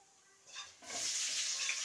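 Oil in a pan, heated for cooking fish with greens, bursts into a bright, steady sizzle after a brief faint hiss, staying loud and continuous with no talking over it.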